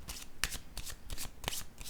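Cards handled and set down during a card reading: a few crisp, papery slaps and flicks at close range, separated by short pauses, with no voices.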